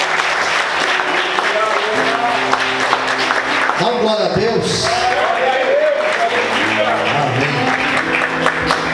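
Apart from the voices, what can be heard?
congregation applauding in church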